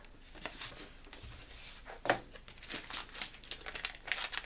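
A parcel and then an envelope are opened up close, with soft intermittent crinkling of paper and wrapping and a few sharper crackles and tearing bursts in a quiet room.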